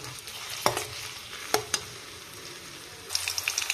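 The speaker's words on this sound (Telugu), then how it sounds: "ఈ ఆనియన్స్ అనేవి స్లైట్గా కలర్ చేంజ్ అయ్యేంత వరకు ఫ్రై చేసుకుందాం" Chopped onions fry over a medium flame with a soft, steady sizzle, broken by a few sharp spoon scrapes and a burst of stirring clatter toward the end.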